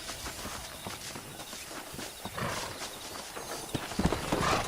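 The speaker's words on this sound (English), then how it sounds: "there's a pack of wild horses nearby." Wild horses gallop nearby in the Western video game Red Dead Redemption, a steady flurry of hoofbeats over a continuous outdoor hiss, growing louder toward the end.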